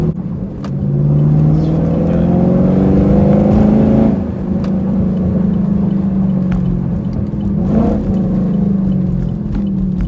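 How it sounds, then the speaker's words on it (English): A modified V8 car engine revs up loudly and close, rising in pitch over about four seconds before dropping back and surging again briefly near the end, with no talk. "you hear the engine working, and it's really cool to hear all of that going on"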